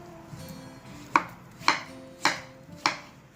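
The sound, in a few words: chopping fruit into small pieces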